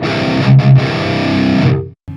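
Electric guitar through an EVH 5150 III 6L6 50-watt amp played with a crunchy, distorted hard-rock tone, a loud sustained chord with a brief stab, then cut off and struck again.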